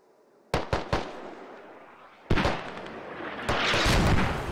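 Mortar and close gunfire in the military shooter game Squad: a quick burst of three sharp blasts, then two heavier booms, each trailing into a loud, sustained rumble and crackle, with no talking.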